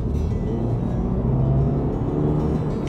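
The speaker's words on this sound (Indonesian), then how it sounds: "bikin suara boxer engine-nya masuk ke dalam dan memuaskan telinga gua" Subaru BRZ boxer engine heard from inside the cabin as it is pulled hard, a steady low droning rumble with a rising tone, continuous and fairly loud throughout, no talking.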